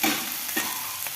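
Okra frying in a pan, dry-fried before oil goes in, with a soft steady sizzle and a few brief scraping stirs over about a second, close and fairly quiet, no voices.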